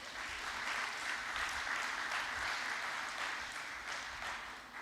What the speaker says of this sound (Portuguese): dê uma salva de palmas do Senhor